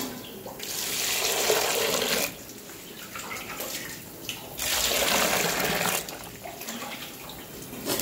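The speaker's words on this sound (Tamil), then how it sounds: "இப்போ வந்து தண்ணி ஊற்றி வைக்கிறேன்." Water poured into a vessel holding cut raw mangoes for a large batch of wedding-style mango pickle, heard as two long, steady, close gushing pours separated by a short pause, with no talking.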